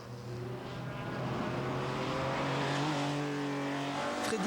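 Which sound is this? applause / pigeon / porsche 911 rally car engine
porsche 911 rally car engine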